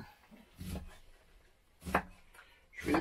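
A knife cuts small asparagus into short pieces inside a camper van, a few soft, close thuds against a board with quiet gaps between them.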